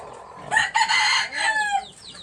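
A rooster crows loudly and close, one long rising-and-falling call, while chickens cluck around it on a local chicken farm.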